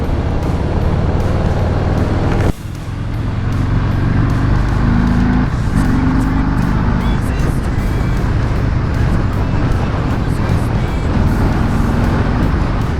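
Ride on a 2018 Harley-Davidson Breakout 114 motorcycle, a loud, steady engine drone with wind roar throughout, a brief dip near the start, then continuous rumble under occasional faint talk.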